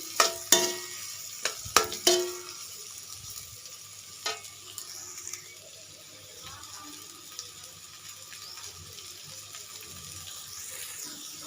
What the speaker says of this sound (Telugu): ఇవి కొంచెం దోరగా వేయించుకోవాలి